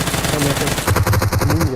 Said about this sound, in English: And Bhalu OP with that beautiful G360 spray takes down